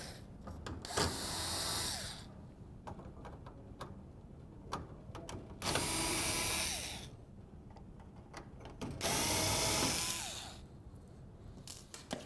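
A power screwdriver removes the Phillips screws from the housing of a Vollrath LidSaver in three whirring bursts, separated by small ticks and clicks, close and fairly quiet.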